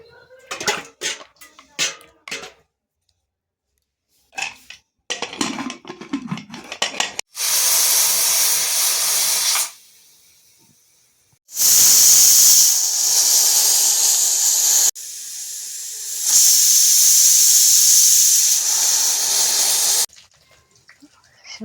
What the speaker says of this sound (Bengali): প্রেসার কুকারে সিটি মারবো